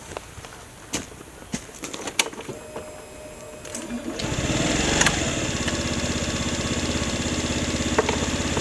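A 2025 Honda Metropolitan scooter engine cranks and catches after a few clicks and taps, then idles with a steady, buzzing putter that holds loud and close to the end.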